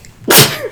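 A single person sneezing, one loud, close, sharp burst after a brief quiet breath.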